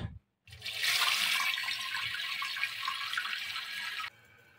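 Water rushes steadily into a leaking toilet cistern for a few seconds after the water supply is opened, a loud hissing flow that stops abruptly, leaving a faint trickle.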